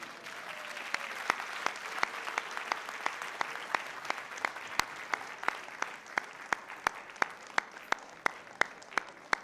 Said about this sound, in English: give yourselves one last round of applause